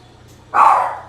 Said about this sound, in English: Fucking dog is barking.